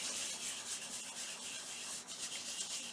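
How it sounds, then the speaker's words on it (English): Paper rubs steadily over a stamp for eco stamping in a junk journal, a close, continuous soft scratchy swishing with light back-and-forth strokes and no voices. "I'm going to place it right here and rub"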